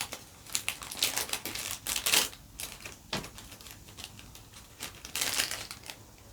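Crinkly cellophane wrapping printed with little love hearts is pulled open close to the mic, giving a rapid series of sharp crackling and rustling bursts with short pauses in between, fairly quiet overall.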